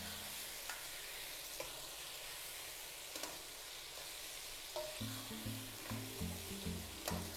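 Parsley, celery, scallion and onions sizzle steadily in a pan, with a run of rhythmic scraping stir strokes joining partway through, close and alone without talk.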